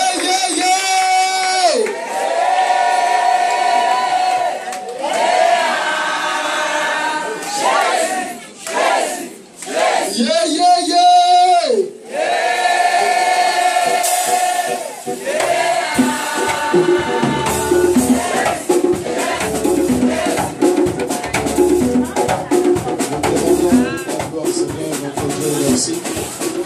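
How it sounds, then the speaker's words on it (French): A congregation at a revival crusade in Agboville cheers and shouts loudly in long, surging waves, with a leader's voice calling out over the crowd. "Acclame plus fort, plus fort, plus fort."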